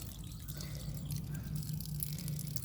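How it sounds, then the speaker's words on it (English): Tap water runs steadily into a strainer while dragon fruit flesh is pressed through it, a soft, continuous trickle with light dripping, fairly quiet and close. "you let the water run"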